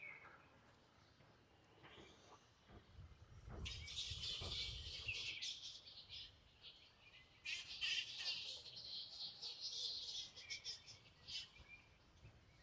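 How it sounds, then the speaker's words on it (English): A large colony of birds calls from a tree, with bursts of dense chirping and squawking that rise and fall over several seconds. The calls sound moderately distant over a faint insect hum, and a few soft voices are heard. "So it's a very huge colony of very beautiful birds."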